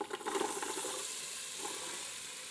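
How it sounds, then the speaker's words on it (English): Chopped vegetables and garlic sizzle in hot oil inside an Instant Pot, a loud, steady frying hiss that starts with a brief clatter as they go in, then settles into a continuous close sizzle with no talking. "The oil is nice and hot, so we're gonna add in all those veggies and that garlic that we chopped earlier"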